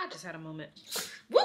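A single sharp sneeze bursts out at the very end, following a stretch of excited talking.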